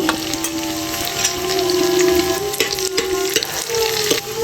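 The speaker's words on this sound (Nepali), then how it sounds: "अब यसलाई मजाले चलाउने अनि हल्का रेड हुन्जेल छोडिदिने यसलाई" Onion, carrot and green chili frying in oil with garlic and ginger in a pan for spicy thukpa, a loud steady close sizzle with occasional clinks and scrapes of stirring, no talk.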